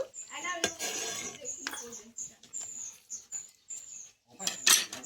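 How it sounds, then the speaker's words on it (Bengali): Dal made with peas and chalda (elephant apple) simmering in a cooking pot as a spoon stirs it, giving close clinks and scrapes against the metal over a steady high hiss, with voices in the background. "দিয়ে আমি 1 মিনিট এরকম নেড়েচেড়ে একটু ফুটিয়ে নেব"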